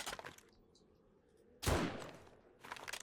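Sniper rifle fire at zombie bears in the co-op survival game 7 Days to Die (Alpha 18): one loud, close, sharp shot rings out midway, with fainter shots and game noise before and after.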